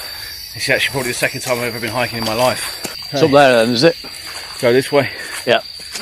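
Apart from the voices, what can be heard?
insects buzzing in Thai jungle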